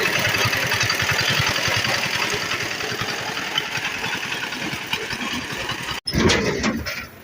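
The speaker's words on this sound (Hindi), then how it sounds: "अभी तक सर्विस हो रही है मोटरसाइकिल" Motorcycle engine running steadily at close range during servicing at a village workshop, a dense rapid mechanical chatter that holds for about six seconds, cuts out abruptly, then resumes briefly.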